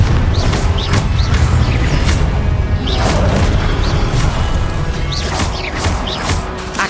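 Spell blasts in the Hogwarts Legacy video game, including the Confringo fire spell: loud, dense booms and crashing impacts repeat every second or so over a constant roaring bed of effects, with no talking.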